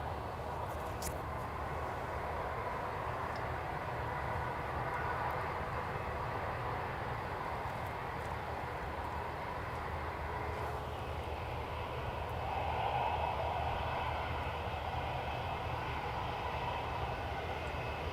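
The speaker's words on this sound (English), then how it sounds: "Jetstar 696 Tower. Clear to take off." A Jetstar airliner takes off at Gold Coast Airport, its engines producing a faint, distant, steady roar that swells slightly toward the end, with no talking.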